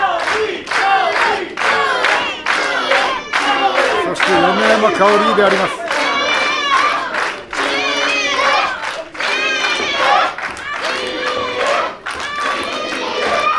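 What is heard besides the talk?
wrestling audience cheering loudly at Shinjuku Face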